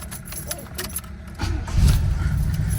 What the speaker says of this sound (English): Now you see she fires right up.